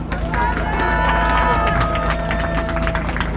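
Outdoor rally crowd in the cold applauding police officers, a dense wash of many hands clapping at length over a steady low hum, with murmuring voices and a lingering tone.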